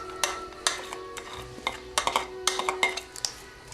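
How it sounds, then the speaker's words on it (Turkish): Close, sharp clinks and scrapes of a utensil in a pan come in quick irregular bursts as chopped onion is added to a faint sizzle of hot oil. "Şimdi doğradığımız soğanı ilave ediyoruz."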